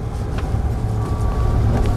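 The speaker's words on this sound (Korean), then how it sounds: "RPM 2000의 엔진 소리를 잘 들어보세요" Steady low car engine drone at around 2000 RPM, heard from inside the vehicle during a manual-transmission driving lesson, a continuous even rumble with no voices over it.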